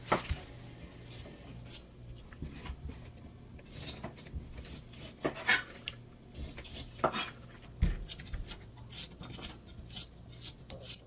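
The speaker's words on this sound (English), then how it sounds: "And I am chopping the jicama." A knife chops jicama for bao bun filling in a home kitchen, producing irregular, fairly quiet taps and scrapes on a cutting board with occasional sharper knocks.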